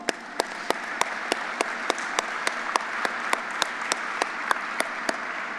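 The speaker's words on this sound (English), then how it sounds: "I just want to give the management team another round of applause for the investment here in the community" An audience applauds a company management team at a facility expansion opening, a dense, steady wash of clapping with a few sharper individual claps standing out rhythmically, moderately close.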